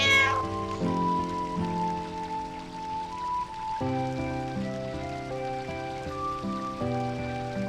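A cat in the video game Final Fantasy IX gives a loud meow and a drawn-out caterwauling cry over sustained in-game music chords, with no talking.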